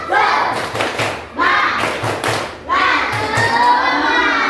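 A group of children performs a rhythmic spirit clap at a school event, with bursts of patterned clapping and thumps mixed with loud shouting and chanting voices, pausing briefly between rounds.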